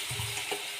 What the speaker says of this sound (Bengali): একটু জল দেব, আর আমি জলটা দিয়ে দিচ্ছি।